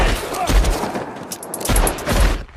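Loud, close bursts of gunfire from a shootout in the 2012 Western film Django Unchained, where one man carries dynamite. Two or three rapid volleys echo sharply, with brief gaps between them.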